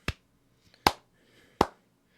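Three sharp hand claps, made by alternating palms striking off-axis, ring out close and crisp at roughly even intervals, with quiet gaps between them.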